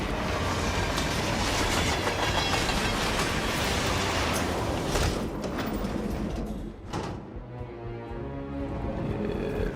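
A train rolls along rail lines in the video game Hitman 3, a loud, steady rumbling roar with rhythmic clatter that eases slightly toward the end, no talking.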